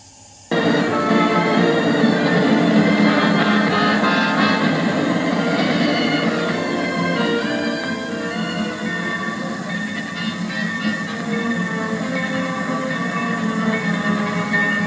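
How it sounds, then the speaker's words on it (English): A passenger train slows under air brakes, with steady rumbling, rolling wheel noise and a faint metallic squeal, continuous and loud. "Air brakes gently slow our train"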